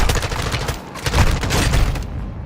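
Rapid bursts of automatic gunfire in Call of Duty: Modern Warfare II, loud and close, with overlapping shots and booming impacts in a dense continuous barrage.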